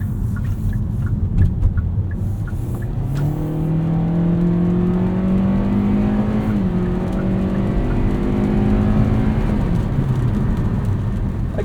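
A 2023 Kia Soul GT-Line accelerates hard in sport mode, its engine note climbing steadily in pitch with simulated gear shifts breaking the rise, a loud, continuous drone with road rumble from inside the cabin.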